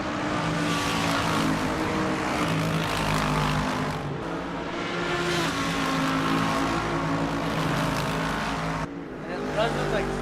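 GT3 race cars in a racing video game at Laguna Seca, loud engines roaring continuously with rising and falling revs and gear shifts, with talk over the engine noise.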